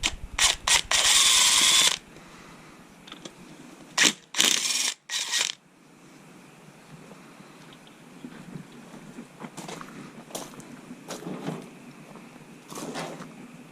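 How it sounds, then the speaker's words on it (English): A ratchet loosens the connecting rod bearing cap bolts on a small block Chevy engine, with loud, rapid clicking bursts up close early on, then quieter intermittent ratcheting and metal clicks, and no talking. "You can loosen them all up, but do not take them off and mix them up unless you got them marked."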